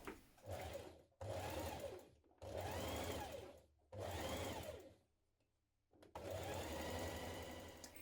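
Home sewing machine stitching fabric pieces of a Vogue 9100 dress, running in four steady whirring bursts separated by short pauses, close and clear with no talking.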